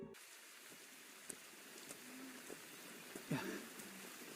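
Faint, steady rain falls in an anime scene, a soft continuous hiss with a few scattered drops and light splashes, quiet throughout.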